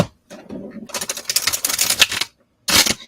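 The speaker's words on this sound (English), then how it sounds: "I'm going in for one more good shuffle here." A deck of oracle cards is riffled and shuffled close to the microphone, giving rapid papery clicking flutters in two bursts separated by a brief silence, with soft handling before.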